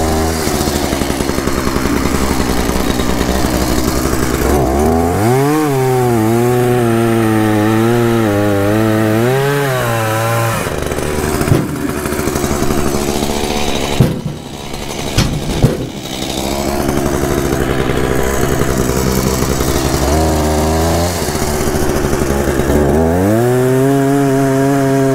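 A chainsaw roars loudly and close, revving up and bogging down repeatedly as it bites into a log, with brief pauses between cuts.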